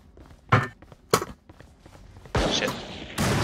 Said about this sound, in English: Here shots. I see shots.